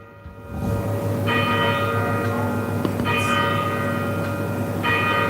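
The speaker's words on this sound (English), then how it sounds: "The church bells ringing. Probably you will hear it." Church bells ring continuously with rich, sustained overlapping tones, fairly loud and steady, with repeated strikes renewing the ringing throughout.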